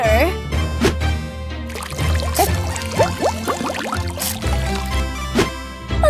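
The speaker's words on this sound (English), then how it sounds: "First, turn on the water." Water pouring from a tap for hand washing in a children's cartoon: a steady trickling splash running beneath a voice and cheerful background music.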